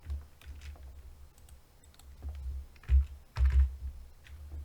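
Soft, uneven clicking of keys being typed on a computer keyboard, quiet and close, in short irregular bursts.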